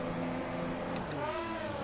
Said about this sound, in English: We're going to build a few revs